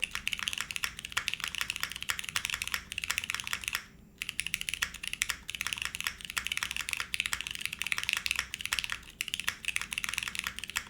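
Rapid, steady typing on a Cloudnine 60% mechanical keyboard: a dense stream of crisp, close key clacks with one short pause partway through, no voices.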